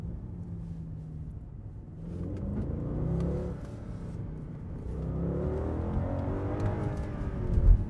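A Mercedes C63 AMG accelerating hard in second gear, its engine rising in a steady, swelling roar heard from inside the cabin, climbing louder toward the end.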